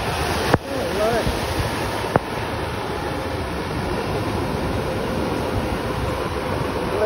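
Ocean waves breaking on the shore at Jacksonville Beach, a continuous broad roaring wash of surf, steady and fairly loud, with a couple of sharp knocks and faint voices in the background.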